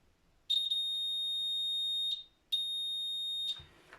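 A small electric buzzer in a simple battery circuit with crocodile clips and a buzzer holder sounds two steady, loud, high-pitched tones, one of about one and a half seconds and a shorter one after a brief gap, with no talk.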